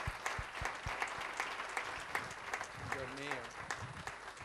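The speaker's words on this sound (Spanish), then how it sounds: "un aplauso para ellos" An audience applauds the production team at a Castilla y León regional television programming gala, with a steady wash of clapping running throughout, a voice briefly heard partway through.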